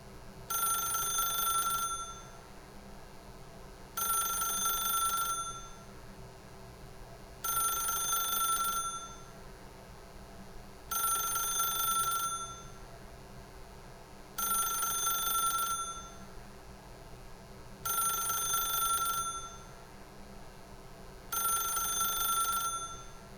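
A telephone rings in The Stanley Parable video game, with seven evenly spaced electronic bell bursts about every three and a half seconds, loud and alone over a faint steady hum.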